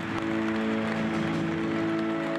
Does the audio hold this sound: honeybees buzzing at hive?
no